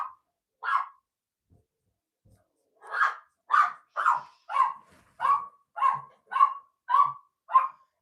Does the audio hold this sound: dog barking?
yes